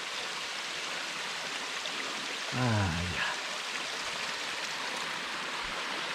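Fresh stream water flowing steadily on a hike between Table Rock and Bald Knob, a continuous broadband rush close to the camera, with someone briefly speaking over it midway.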